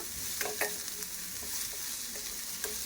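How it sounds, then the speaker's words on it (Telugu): Onions frying in a little oil for a chicken curry, a steady close sizzle with light scraping stirs breaking through every so often, no voices. "ఆయిల్ తక్కువగా వేసి ఉల్లిపాయలు అయితే వేయించండి తొందరగా వేగుతాయి"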